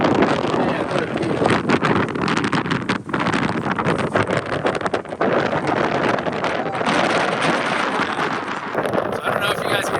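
Heavy wind buffeting the microphone with constant rumbling gusts, loud and close, on the summit of South Sister volcano in Oregon, while a voice is partly buried beneath it.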